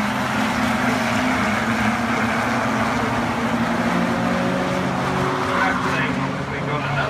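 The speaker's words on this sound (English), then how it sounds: "It is the Toyota's Porsche Championship, and it's side by side for the lead between Richard Starr and Andrew Hack" Race cars of the Porsche Championship at Brands Hatch circuit roar past in a close battle, a loud continuous engine wash with some tire noise.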